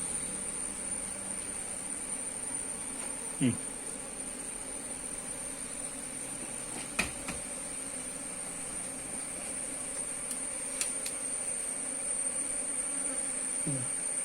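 Honey bees hum around a hive in a rural beekeeping setting, a continuous buzzing drone with occasional louder passes of individual insects close by.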